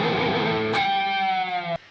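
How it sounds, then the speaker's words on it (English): An electric guitar played through a Friedman Cali pedal into a Friedman BE50 Deluxe amp rings out loud and distorted, a chord strummed and then a sustained note that is cut off abruptly, with no talking. "I'm going out of the Friedman Cali into the Friedman BE50 Deluxe, into the two notes, and that's your tone!"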